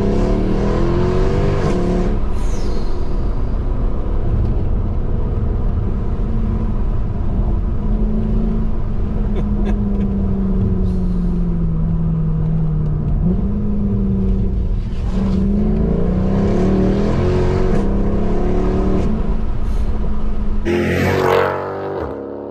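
A Mercedes W204 C63 AMG V8 revs slowly and climbs through the range, then drops onto overrun with a loud, close, continuous engine roar before a sharp final burst and fade.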